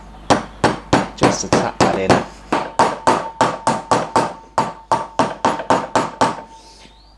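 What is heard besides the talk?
soft hammer tapping bearing into brake hub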